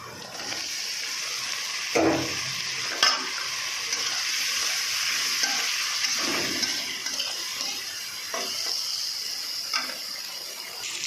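Brinjal fries in a pan with a steady, close sizzle, broken by several sharp scraping knocks as the pieces are stirred.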